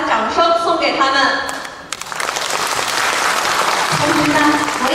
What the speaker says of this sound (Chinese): 让我们再次把掌声送给他们